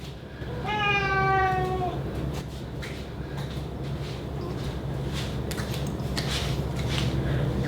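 A pet cat meows loudly in a kitchen, one drawn-out cry near the start, followed by steady background noise and faint clatter.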